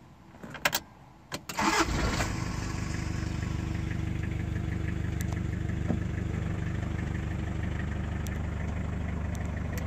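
A 1991 Toyota Liteace 4x4 camper truck engine cranks briefly with a couple of sharp clicks, then catches and settles into a steady, rumbling idle close by, with no talking.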